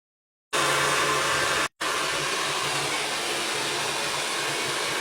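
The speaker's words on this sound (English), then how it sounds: "blow out your hair with a very hot blow dryer" A very hot hair blow dryer roars in a steady, loud broadband rush after a short silence, cutting out for an instant before resuming continuously and close up, with no talking.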